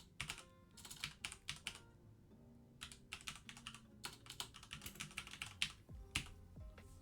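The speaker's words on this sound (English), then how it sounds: "Better at typing when I'm not being watched doing it." Quick bursts of clicky typing on a computer keyboard, close and fairly crisp, with irregular runs of keystrokes and short pauses in between.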